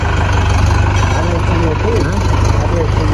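A Mahindra Yuvo 575 tractor engine idles steadily with a low, throbbing rumble that fills the whole clip.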